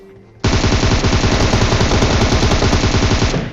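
Rapid automatic gunfire in a battle royale video game, one loud, close, continuous burst of about three seconds that starts abruptly after a quiet moment.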